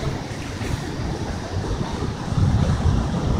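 Rough surf pounding the shore at Guarujá during a storm swell, a continuous heavy roar of crashing waves with wind buffeting the microphone, swelling louder toward the end.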